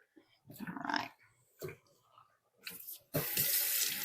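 Milking machine parts from a goat pulse milker are rinsed under a running faucet, with several short splashing bursts followed by a steady, close stream of water.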